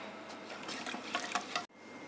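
Chilled water poured little by little into ghevar batter in a bowl, a soft, steady trickling splash close by that stops abruptly near the end.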